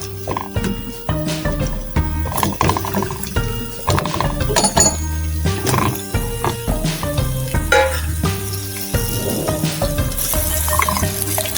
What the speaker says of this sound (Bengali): এখন আমি এই করলাগুলি হালকা একটু ভেজে নিব।